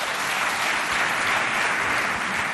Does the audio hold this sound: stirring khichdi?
no